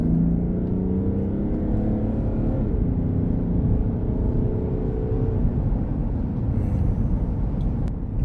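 A Mercedes GLE 450d coupe diesel pulls away in sport mode, its steady engine drone rising in pitch through a gear change, with road and wind noise building; no one speaks.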